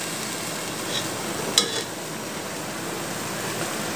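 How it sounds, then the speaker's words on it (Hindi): Tomato paste frying in a pan while being stirred, a soft continuous sizzle with light scraping, including one brief sharper clink near the middle. "अब इसमें डालेंगे टमाटर का पेस्ट। और इसको अच्छे तरीके से भून लेंगे।"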